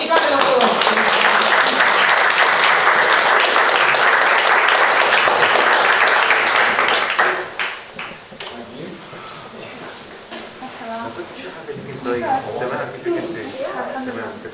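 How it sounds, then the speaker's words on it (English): A room of listeners gives sustained applause at the end of a panel discussion in London, loud dense clapping for about seven seconds that stops abruptly, followed by quieter talking. "Thank you, round of applause."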